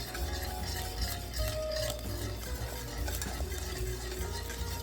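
A spoon stirs vanilla into a pot of cooked rice pudding, giving soft, steady scraping and thick wet churning that stays quiet and continuous, with a faint hum in the background.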